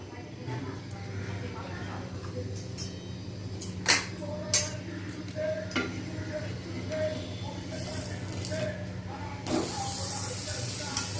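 A sandwich fries in butter in a pan, giving a steady close hiss and sizzle with a few sharp crackles and pops over a low background hum.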